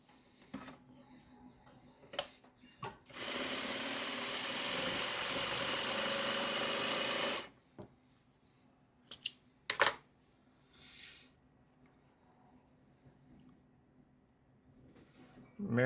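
A sewing machine runs in one steady burst of stitching on fabric for about four seconds. Quiet clicks and handling noises come before and after it.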